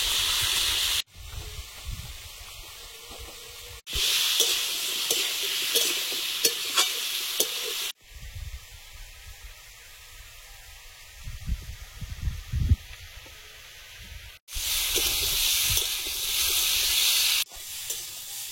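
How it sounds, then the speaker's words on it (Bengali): Potatoes fry in a pan with turmeric and salt, a loud close sizzle that swells and drops in bursts, mixed with scraping and rattling as they are stirred. "আলুটা সুন্দর করে ভেজে নেব।"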